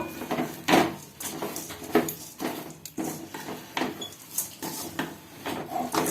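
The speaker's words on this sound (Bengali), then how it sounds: "একটা থালায় ওটস আর তার সাথে যে সমস্ত কিশমিশগুলো রেখেছিলাম সেটা সঙ্গে সঙ্গে মিশিয়ে দেব" Oats and raisins are mixed by hand on a plate for granola bars, giving a series of light clinks, taps and scrapes at an uneven rhythm, close and fairly quiet.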